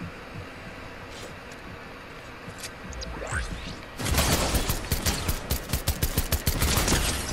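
Rapid gunfire in the Fortnite video game, quiet at first and then a loud, dense burst of repeated shots from about four seconds on, filling the rest of the clip.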